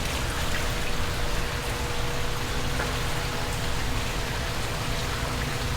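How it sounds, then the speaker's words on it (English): Steady rushing water from an artificial waterfall in a tropical botanical garden in downtown Honolulu, a dense, even, close splashing hiss that continues unbroken with no voices. "if I lift this leaf, you can tell they created an artificial waterfall"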